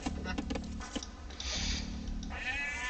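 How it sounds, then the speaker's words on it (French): Sheep bleat in a real-time strategy video game, with a few short, nasal in-game bleats over a steady low background of game sound, near and fairly quiet. "il y a 2 moutons qui ont été trouvés par Benoît"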